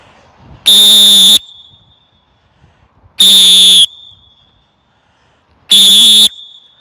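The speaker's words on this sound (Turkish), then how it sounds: "D40 düdüğü nasıl bir ses verecek?" Three loud, piercing blasts from a plastic whistle blown hard, each lasting under a second, spaced evenly apart with quiet gaps between them.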